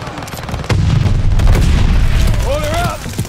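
Mortar barrage in the World War II shooter Call of Duty: Vanguard, with a sudden heavy boom followed by a sustained rumble of explosions and gunfire, while shouted voices carry over the battle.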